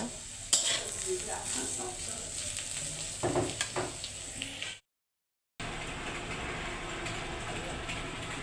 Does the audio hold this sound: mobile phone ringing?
no